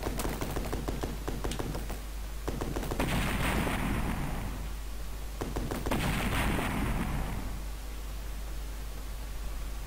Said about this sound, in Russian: У автомата еще звук такой реалистичной стрельбы.